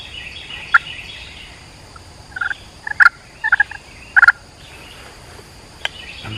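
Wild turkey gobblers in Florida answering a slate call, several sharp, rattling gobbles from a few birds scattered across a quiet outdoor backdrop, some near and some farther off.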